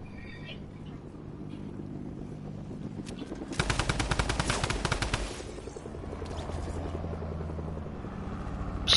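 A helicopter thrums steadily in a video game, then a loud burst of rapid drum gun fire sounds for about two seconds before the rotor drone carries on. A voice can be heard under the sounds.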